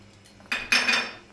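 Chopped almonds stirred into thick suji halwa in a pan: two quick, close metallic scrapes of a spoon against the pan, the second longer and louder.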